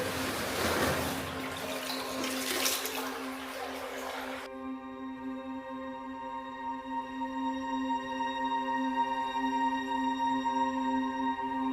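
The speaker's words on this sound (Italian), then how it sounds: "c'è sempre acqua che scorre" Water flows continuously over black basalt inside a cave, a broad steady wash in the first few seconds that drops to a quieter, even trickle with resonant tones lingering, no voices.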